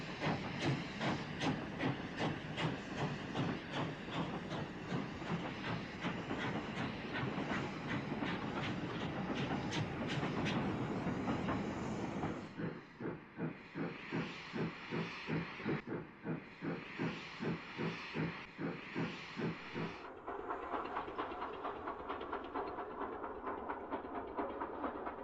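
A steam locomotive train puffs out of a station and climbs a hill, its rhythmic chuffing and hissing steady and loud, then the exhaust beats turn slower and more distinct as it labors upgrade, no voices.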